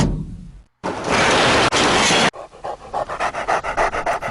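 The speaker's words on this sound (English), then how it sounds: "we get approached by this vicious attack dog" A vicious attack dog in the Last Resort video game pants rapidly and loudly, following a burst of harsh noise and a short gap, with quick rhythmic breaths close up and no talk.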